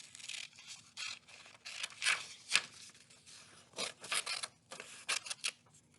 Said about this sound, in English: now you just cut it out carefully